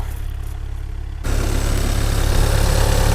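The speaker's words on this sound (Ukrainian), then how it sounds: "Робота двигуна" A Skoda Superb Sportline car engine idles up close, a steady low rumble that grows louder and fuller partway through.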